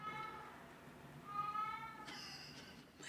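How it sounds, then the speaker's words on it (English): An indoor cat lets out a couple of drawn-out meows, the second higher and sharper, heard fairly quietly against a soft background. "Oh wow, that was a loud meow."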